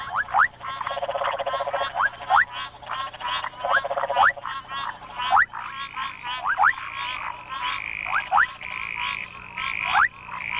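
A male frog in Africa calling repeatedly after the rains, rapid rattling croaks broken by sharp rising chirps in a steady rhythm, loud and close, with no voices.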